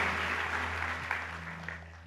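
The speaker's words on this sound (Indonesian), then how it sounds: "Tepuk tangan buat Tuhan Yesus" A church congregation applauds, a dense, even patter of clapping held at moderate loudness that fades slightly toward the end over a low steady hum.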